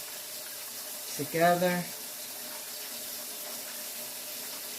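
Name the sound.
water running from tap into pot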